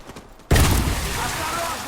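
A grenade explodes in a multiplayer shooter game with a sudden loud blast that rolls into a sustained rumble, following a brief quieter stretch where voices call out.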